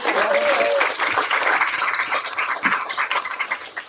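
Audience applause for Mandy at an activist fundraiser held in a community bookshop, a close, steady wash of clapping with a brief voice and a whistle-like tone early on.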